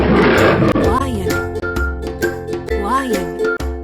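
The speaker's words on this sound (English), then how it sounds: "Lion." A lion gives two deep, loud roars in succession, each a rising and falling growl, set over a light jingling children's music track.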